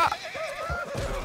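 A horse in the video game Red Dead Redemption 2 lets out a loud, close whinny with a wavering, shaky pitch, backed by low thumping hoof sounds, lasting just over a second with no speech.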